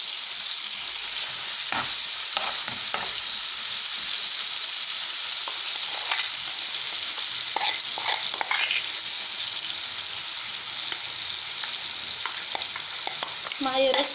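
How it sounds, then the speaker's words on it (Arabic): Garlic frying in hot oil gives a continuous bright sizzle, broken by repeated clinks and scrapes of a utensil stirring it in the pan, close and steady throughout with no talking. "هاخد الثوم كده عشان احمرها في الزيت"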